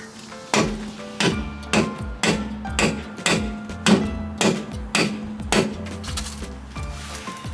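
Metal is hammered around a bolt on a Toyota Celica rear subframe. The blows come as a steady run of about a dozen sharp, ringing strikes, roughly one every half second, close and loud, with no talking.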